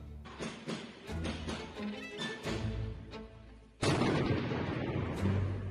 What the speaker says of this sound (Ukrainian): Раз і серед дня постріли, і стрілянина, і вибухи.